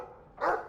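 A single short dog bark from a video game's dog, fairly close and brief after a quiet stretch, with no talking.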